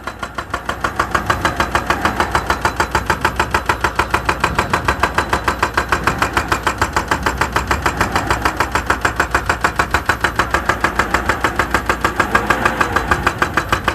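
A vehicle engine idles steadily and close by at a mountain road-cutting site, a loud, even mid-pitched throb with a regular pulsing rhythm that runs without break.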